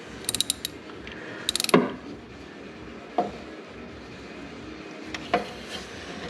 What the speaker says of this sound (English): The scary thing about our nut there that Dylan's undoing is that it was already loose